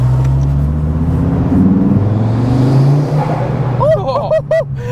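An Audi RS3 8Y with a valved exhaust revs loudly and close, its engine note rising and falling, while people talk over the end.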